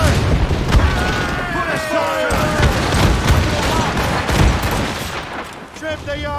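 Ship cannons fire in a naval battle in Assassin's Creed Rogue, heavy booms and volleys rolling over one another under shouted orders from the crew, loud and continuous throughout.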